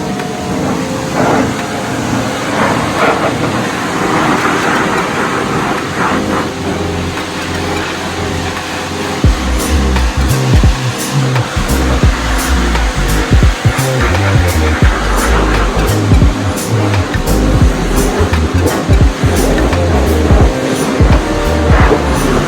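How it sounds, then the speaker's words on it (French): A pressure washer fitted with a Kebtek foam cannon rinses a car's sills and wheel rim, a steady loud hiss of spraying water that grows harsher and heavier about halfway through, with no talking. "La puissance de rinçage fait que, vous voyez, sans frotter, j'ai nettoyé excellemment bien le bas de caisse et ma jante là-bas."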